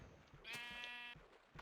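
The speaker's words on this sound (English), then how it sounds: "The sheep are here." A sheep in a video game gives a single clear, wavering bleat lasting under a second, close and distinct against a quiet background.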